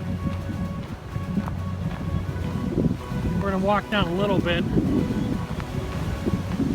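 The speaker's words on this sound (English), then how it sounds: "as we peak the top, we are now getting hit by a lot of wind." Strong, cold morning wind gusts hit a hilltop after a climb, roaring as a steady broadband rush through the whole clip while someone talks over it.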